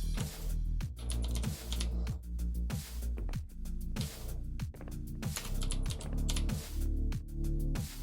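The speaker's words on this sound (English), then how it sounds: "You'll just hear my keys clicking." Computer keyboard keys clatter in steady rapid bursts as someone types during a Xonotic DeFrag run, the clicks close and crisp, grouped in rhythmic clusters with no talking.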